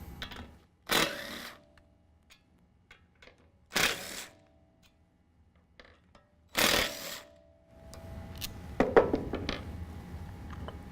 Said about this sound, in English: now I'm going to remove the 3 8mm bolts that are holding on the vacuum hub